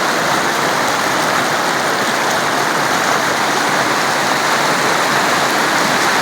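Floodwater rushes through village houses after days of heavy rain, a loud, steady, unbroken roar of flowing water with no voices.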